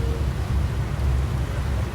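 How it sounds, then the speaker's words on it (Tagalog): Rain falls steadily outdoors near the Pacific Palace Hotel in Batam, Indonesia, a dense, constant hiss with a low rumble underneath, loud and unbroken with no talking. "Makulimlim kasi umuulan."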